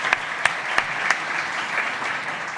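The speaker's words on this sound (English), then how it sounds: "he deserves a big round of applause" Sparse applause from a conference audience at a startup summit stage in Madrid, a handful of distinct individual claps spaced out over a quiet room.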